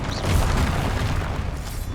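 A Confringo explosion spell from the video game Hogwarts Legacy, a deep rumbling boom with a crackling burst that sustains for about two seconds.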